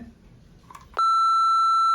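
A phone gives a loud, steady electronic beep lasting about a second as a charging cable is plugged into its USB port, following a brief softer click and quiet background.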